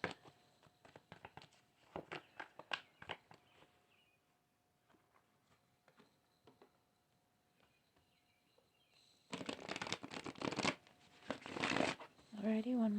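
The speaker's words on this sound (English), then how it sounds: "These are the last of our tarot cards that we will be pulling for our lovely air signs" Tarot cards being shuffled and pulled, with soft riffling and flicking of the deck, a few quiet taps and a louder burst of shuffling near the end, heard under a woman's speech.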